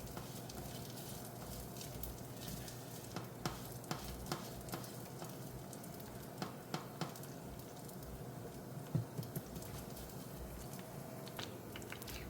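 Leftover rice frying in a pan, a soft continuous sizzle with light stirring taps and small pops, faint and close.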